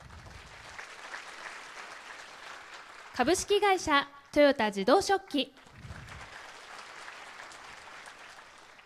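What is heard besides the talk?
audience applause at a team presentation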